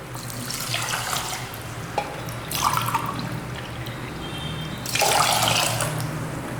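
Water splashes into a pressure cooker holding rice in a steady pour, with bursts of louder gushing and dripping between them, close by and without talk.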